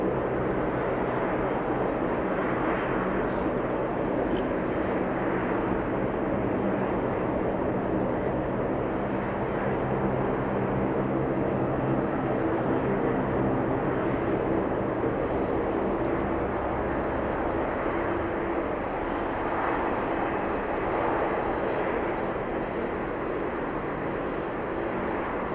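A Lynden Air Cargo Hercules aircraft on runway 33 at Anchorage Ted Stevens International Airport in freezing temperatures, a steady, loud, distant engine roar holding throughout with slight swells in intensity.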